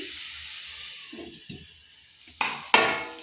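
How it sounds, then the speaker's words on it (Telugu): Mushrooms frying in oil in a kadai, a soft hiss of sizzling with a few scraping stirs, then two louder bursts of crackling and clattering utensil contact near the end, with no talk. "ఇలా ఇది ఆయిల్లో ఒక five to ten minutes fry అవుతూ ఉండాలి"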